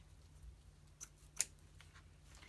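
Scissors snip through ribbon in a quiet room, two short crisp cuts about half a second apart, faint and close.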